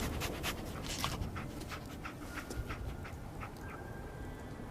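Dogmeat, the dog companion in the video game Fallout 4, pants in quick, steady breaths at close range, fairly quiet, with a few faint whimpers.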